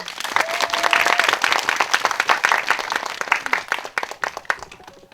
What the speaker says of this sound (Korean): 박수 많이 보내주세요